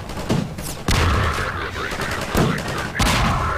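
Rapid gunfire in the shooter Half-Life 2, with bursts of shots crackling in quick succession, loud and close, pausing briefly before another volley.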